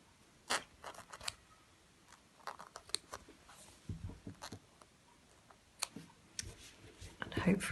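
Scissors cutting through layered fabric during textile slashing, a series of faint, irregular snips and crunchy rustles with quiet pauses between, close by and alone.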